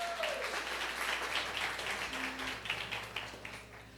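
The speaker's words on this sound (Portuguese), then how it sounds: "Você pode aplaudir o Senhor?" Church congregation applauding, a steady wash of many hands clapping at moderate distance for several seconds, with a faint low hum beneath.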